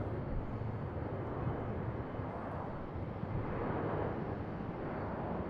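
An Alaska Airlines jet departs Raleigh-Durham airport bound for Seattle, a steady broad engine roar heard from a distance, constant and unbroken with no voices.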